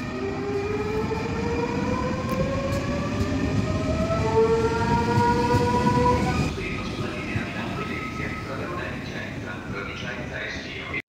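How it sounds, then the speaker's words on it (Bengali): A bullet train pulls away from a station platform in Italy, a loud continuous rumble with rising electric whine tones that fade and thin out as it departs, with a voice talking over it. "চলে গেল আমাদের বুলেট ট্রেন।"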